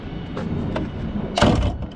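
Cab door of a Cat 938K wheel loader opening: a couple of faint latch clicks, then a louder close-up clunk and rattle of the door swinging open.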